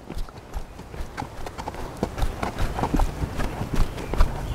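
Horse hooves clip-clop at a steady walking rhythm as a ridden horse leaves a pen, the hoofbeats close and moderately loud against a faint outdoor background, with no talking.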